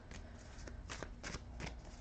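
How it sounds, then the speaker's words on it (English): Tarot Illuminati tarot cards being shuffled, with several quick riffling bursts of papery flutter in a steady rhythm, close and fairly quiet, and no voice. "I'm going to shuffle just a little bit more."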